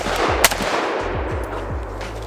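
Galil ACE 5.56 pistol fired at a range in quick succession, several sharp, booming shots with echoing low tails, close and loud, with no talking.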